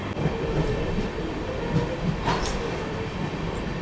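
The new Sealdah Humsafar Express running from Jalpaiguri Road, heard from inside a coach as a steady loud rumble of wheels on rail with a brief high squeal midway.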